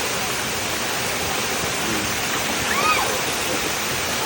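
A waterfall's broad, steady roar fills the whole clip, loud and close, with faint voices briefly audible beneath the constant rushing water.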